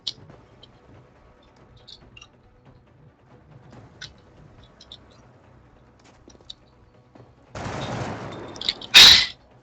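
Gunfire aimed at a sectoid in XCOM: Enemy Unknown, a loud burst of shots near the end after a mostly quiet stretch with faint clicks.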